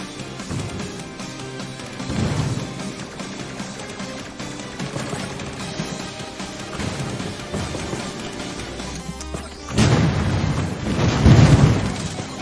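Explosions in the Jet Lancer video game, enlarged by an area-of-effect module, pop and boom amid busy game music and effects, with a heavier burst of blasts near the end.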